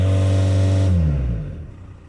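Engine of a VW Caddy revved at standstill, a loud steady high-rpm drone with strong harmonics that then drops smoothly as the revs fall back toward idle, close up.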